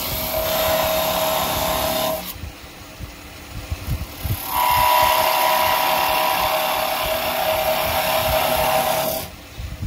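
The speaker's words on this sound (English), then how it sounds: "Just want to wiggle the tool backwards and forwards slightly, and this prevents it from binding" A woodturning tool cuts timber on a lathe in two sustained whining, rasping passes, separated by a quieter stretch where the spinning wood and motor hum on alone.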